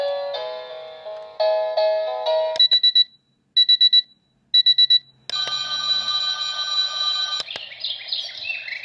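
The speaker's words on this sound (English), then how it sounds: "Let's listen to different alarm sounds." A small colorful digital alarm clock cycles through its alarm tones: rising beeping melodies, short repeated beep bursts, a steady ringing tone, then chirping birdsong, all clear and close.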